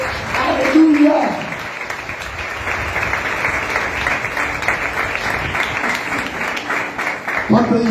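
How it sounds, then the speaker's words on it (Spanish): Church congregation breaking into dense, sustained applause that fills most of the stretch at close, even loudness, with a preacher's voice rising over it at the start and again at the end. "Dale un fuerte aplauso al Señor"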